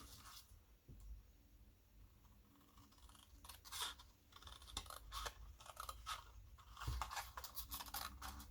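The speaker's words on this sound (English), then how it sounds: "Now we can cut along these diagonal lines." Scissors snipping through paper along diagonal lines while making a papercraft cube, a series of soft, close crunching cuts coming in irregular bursts, faint and quiet overall.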